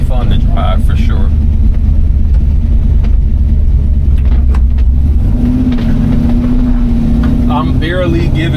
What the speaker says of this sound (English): As you can tell, this LS sounds amazing in here.